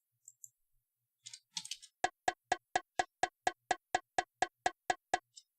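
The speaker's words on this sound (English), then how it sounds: "it's got some cool congas and bongos in the intro" A dry drum machine conga and bongo pattern plays alone: a few scattered hits, then a steady run of evenly spaced sharp, hollow taps at a quick, regular tempo.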